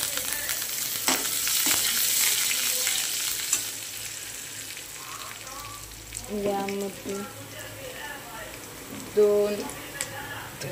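Garlic frying in oil until golden for a spicy soybean bhaji, a strong sizzle at first that gradually softens, with a few brief tonal bursts and occasional stirring sounds later on.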